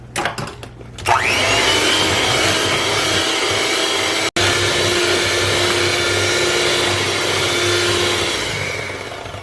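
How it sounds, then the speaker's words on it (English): An electric mixer whirs steadily through vanilla cake batter, starting after a few clinks and holding a loud, even motor drone with one brief cutout midway. "And then I'm going to continue mixing."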